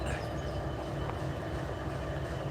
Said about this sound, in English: and that train's beside us